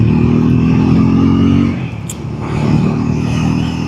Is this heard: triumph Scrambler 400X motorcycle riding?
yes